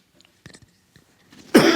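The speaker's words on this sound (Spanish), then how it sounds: "Tengo una tos que me molesta todo el tiempo" A single harsh, loud cough bursts out near the end after quiet moments with faint small noises, during a Spanish-language church sermon.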